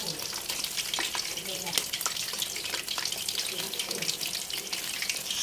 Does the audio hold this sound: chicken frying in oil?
yes